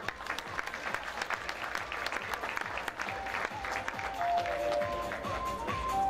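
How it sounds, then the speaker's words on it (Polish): An audience at a municipal sports awards gala claps in dense, sustained applause, with faint tones surfacing toward the end. "poproszę o brawa"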